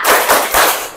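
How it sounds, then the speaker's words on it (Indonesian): Students in an Indonesian classroom give a rhythmic spirit clap, a burst of several loud, crowded hand claps that pulse in quick groups, close and filling the room, with no talking over them. "Tepuk semangat."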